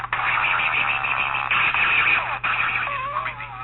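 Warbling electronic sci-fi effects from a Marx Sound of Power Astronaut toy, a wavering metallic tone with pitch swoops and brief crackles, steady and moderately loud with no talking.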